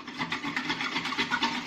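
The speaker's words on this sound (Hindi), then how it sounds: "विस्कर से विस्क कर लेते हैं।" Rapid rhythmic scraping of a whisk beating against a bowl, brisk and steady, close up with no voices.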